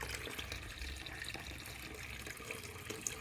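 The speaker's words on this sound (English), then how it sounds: "The water just flowing." Water pours steadily from a can into a hydroponic kit, a continuous close splashing trickle with no pauses.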